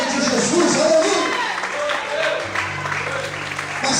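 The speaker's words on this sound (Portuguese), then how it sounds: "glorifique e aplauda ao Senhor esta manhã" A church congregation applauds during a Portuguese-language service, a broad patter of clapping mixed with voices and shouts, while a sustained musical tone rises underneath partway through.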